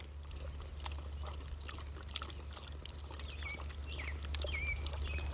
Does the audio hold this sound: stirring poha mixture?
no